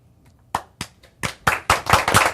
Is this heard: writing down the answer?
no